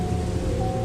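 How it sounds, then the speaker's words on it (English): Pouring rain makes a dense, loud, steady roar with a low rumbling underside and a faint constant tone, short and unbroken. "It was also pouring down with the rain."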